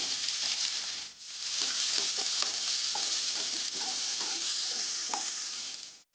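Garlic and green beans stir-fry in a hot pan, a steady sizzle broken by the scrape and clack of a spatula stirring, close and continuous with a brief dip mid-way.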